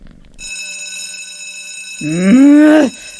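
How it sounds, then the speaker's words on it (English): A loud school class bell gives a steady, shrill electric ring lasting about two and a half seconds. A loud, drawn-out vocal groan overlaps its final second. "Only a sadist would install a bell like that to call a kid to a class."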